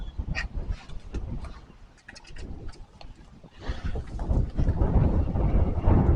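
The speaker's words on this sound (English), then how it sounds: "Wind-blown rain, it's getting into the trunk." Gusty wind buffets the microphone with blowing rain, rising and falling in loud rushing surges, growing stronger toward the end.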